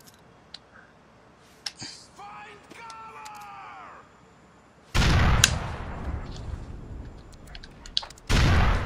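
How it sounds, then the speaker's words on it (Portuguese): Shotgun blasts in the video game GTA 4 on PS3, two loud broadband bursts, one long around mid-clip and another near the end, following quieter game sounds and a brief voice. "me deu tiro de 12, mano"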